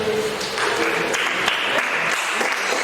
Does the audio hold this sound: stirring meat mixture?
no